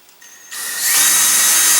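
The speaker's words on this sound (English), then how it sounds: "I'm going to drill it out to full size" Power drill spinning up while driving a screw into a LOC Precision Patriot model rocket airframe, a short whine rising to a steady loud buzz, heard alone.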